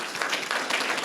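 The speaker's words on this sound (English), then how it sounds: "please give him a round of applause." An audience at a panel on elderly fraud applauds a former U.S. attorney, a brief, dense burst of clapping in a room that stays steady for about a second.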